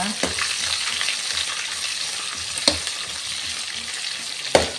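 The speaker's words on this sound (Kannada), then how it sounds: "ನೀರುಳ್ಳಿ ಪಾಡ್ದ ಫ್ರೈ ಮಾಡ್ತೀನಿ" Onions fry for hotel-style masala dosa, a steady close sizzle that fills the kitchen, with a couple of sharp clinks of a spoon against the pan.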